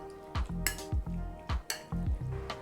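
Pork marinating with dark soy sauce and ground white pepper for a moo shu stir fry is mixed in a bowl, giving a steady rhythm of about five scraping strokes with light utensil clinks, close and clear.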